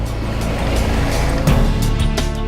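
A 2017 Subaru WRX circles a skid pad at close to one G, its engine droning loud and steady under a constant rush of road and tire noise, with a few sharper bursts along the way.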